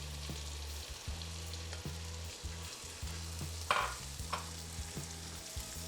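Risotto rice sizzles in a pan of olive oil and butter, a quiet steady fry under a low, repeating hum of background tones, with a couple of brief stirring scrapes partway through and no talk.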